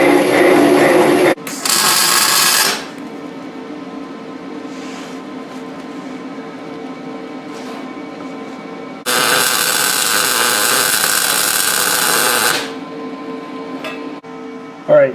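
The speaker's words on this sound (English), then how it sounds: "So I'm going to go and drill these out to 3/4." A power drill whines in two long bursts, drilling holes in metal out to 3/4 inch for a Jeep TJ four-link, with a lower mechanical hum between them and a sharp clunk near the end.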